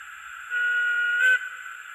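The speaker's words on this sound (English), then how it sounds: "when you also deselect 5, you get a right away whistle from the loco" An OO gauge model of a Metropolitan Railway E Class locomotive sounds a right away whistle through its sound decoder, a steady electronic whistle tone lasting about a second with a brief rise near the end, heard alone.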